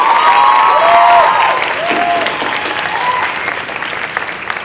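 Loud applause with cheering and whistles from an awards-ceremony audience at UMass Amherst welcoming a new executive board, a dense steady ovation that gradually eases, with a few voices rising over it.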